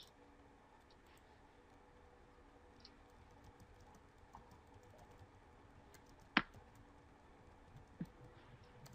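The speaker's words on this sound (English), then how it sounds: "let me see if I can type it in" Faint, quiet computer-keyboard typing: light, irregular key clicks over a low hum, with one sharper tap partway through and another a little later.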